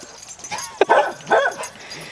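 A dog gives a few short yips and bow-wow barks outdoors at a field training range, mid-distance and moderately loud, between quieter stretches.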